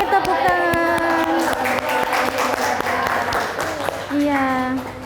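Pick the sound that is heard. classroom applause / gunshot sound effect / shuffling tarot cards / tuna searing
classroom applause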